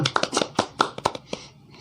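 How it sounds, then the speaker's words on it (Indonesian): Scattered hand claps from a small group at an Indonesian talk show, roughly a dozen sharp, close slaps bunched over under two seconds before trailing off into quiet. "tepuk tangan dulu"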